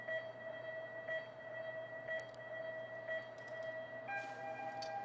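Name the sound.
countdown timing tones and start tone for cycling hour record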